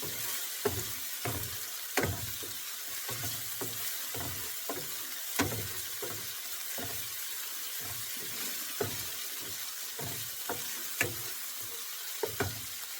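A spoon scrapes and stirs a vegetable Kolhapuri mixture in a pan over medium-high gas, with steady rhythmic strokes over a soft continuous sizzle, close by and with no talking.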